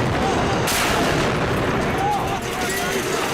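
Battle sound effects of gunfire and grenade blasts in a Kargil war account: dense, loud, continuous shooting and explosive booms filling the whole stretch, with narration layered over it.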